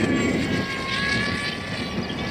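An AXN Floater RC plane flies past, its small electric motor and propeller giving a steady buzzing whine at moderate distance, continuous and without speech.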